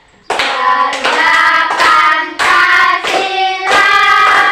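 A school class stands and claps along while singing a patriotic song in unison, loud voices carrying the melody over rhythmic hand claps.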